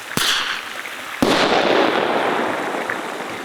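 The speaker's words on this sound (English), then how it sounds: "I also bring a bear banger, which is my first defense. It's basically like, it makes a loud noise like a gunshot." A bear banger is fired into the air in the Canadian wildfire wilderness: a short first crack, then a loud gunshot-like bang about a second later whose rumbling echo rolls on for several seconds.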